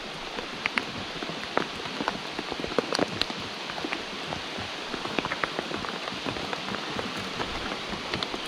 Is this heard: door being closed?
no